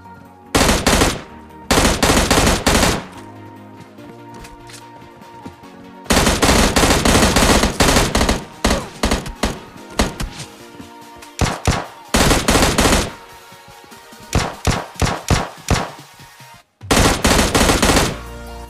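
Automatic gunfire in PUBG Mobile Lite as an enemy squad is finished off, loud bursts of rapid shots separated by short pauses, with longer sustained volleys mid-clip and a final burst at the end; no talking.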